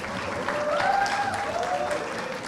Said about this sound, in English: So a huge round of applause for the host team, for everyone who's worked tirelessly,